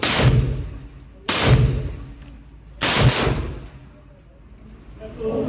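An AK rifle fires three loud, close single shots spaced roughly a second and a half apart, each a sharp crack with a short decaying tail.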